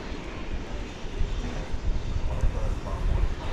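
American Airlines jet taking off from runway 18 left at DFW Airport at night, a steady broadband engine roar with wind-like rumble holding fairly loud and even throughout.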